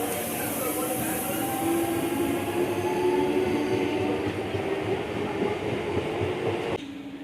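A train rolls into a station with a steady, loud rumble of wheels and carriages and a faint clickety-clack, holding constant for several seconds before dropping off slightly as it slows.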